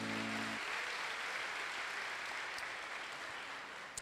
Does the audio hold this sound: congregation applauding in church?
yes